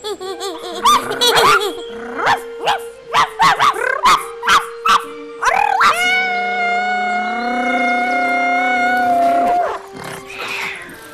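A run of short, sharp barks in quick succession, followed by a long, drawn-out whining howl.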